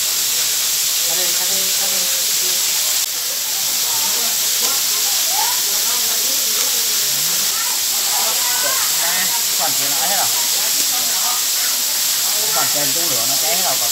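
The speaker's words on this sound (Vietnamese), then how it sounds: "chúng tôi tiếp tục nướng cua" Crab grilling over an open fire outdoors in the forest, a steady loud hiss and crackle of flames and sizzling shell throughout, with scattered chirpy sounds over the top.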